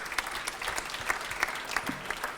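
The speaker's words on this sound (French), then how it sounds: "Et ce grand prix, on peut vous applaudir." Audience applause fills an award ceremony hall as a grand prize for environmental business achievement is presented, a steady, dense patter of many hands with brief louder claps scattered throughout.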